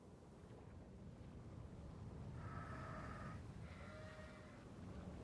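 Sheep bleating in the video game Nancy Drew: The Haunting of Castle Malloy, two drawn-out bleats from a fair distance, one after the other, over a steady windy outdoor ambience.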